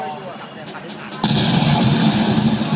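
Gunfire in the shooter video game Xshot during a competitive match, a burst of loud, dense shots that kicks in abruptly partway through and continues steadily to the end after a quieter stretch.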